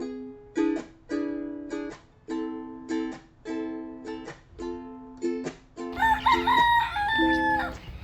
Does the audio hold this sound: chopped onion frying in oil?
no